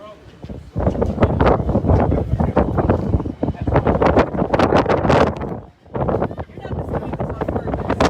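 Strong wind buffeting across the deck of the Disney Dream cruise ship as it leaves port, a loud, gusty roar against the microphone, with people talking over it.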